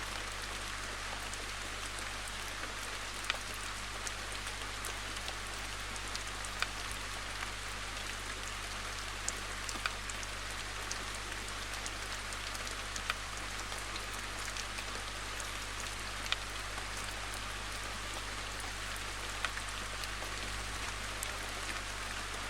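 Steady rain falling outside over a vegetable garden, a constant even hiss of drops with occasional sharper taps nearby, continuing without a break and with no voices.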